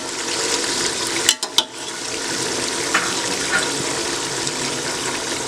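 Tomatoes go into a hot pan while cooking Sindhi biryani, setting off a steady close sizzle and fry with a few sharp clatters near the start. The frying carries on without a pause and nobody speaks.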